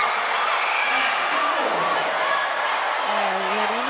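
A volleyball crowd at an AFP Lady Gunners versus Senate Lady Defenders league match keeps up a steady roar after a point, heard under continuous commentator talk.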